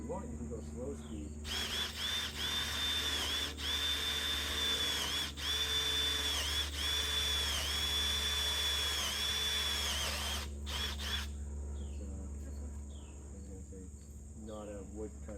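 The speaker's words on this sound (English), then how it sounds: "And drill some new holes in the wood." A power drill bores new holes in wood while fitting railing uprights, a steady near whine running for about nine seconds with slight dips in pitch as the bit grabs, then stopping, over faint background insects.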